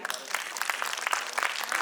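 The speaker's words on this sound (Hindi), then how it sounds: "जोरदार तालियां हो जाए।" Steady applause from an audience at a school annual concert, many hands clapping continuously at moderate loudness with no break.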